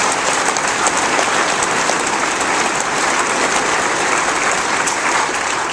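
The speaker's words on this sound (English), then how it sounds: "Give Dan Forrest a nice applause." Sustained applause from an audience at a political event, a dense, steady wash of clapping hands at constant loudness throughout, with no talk above it.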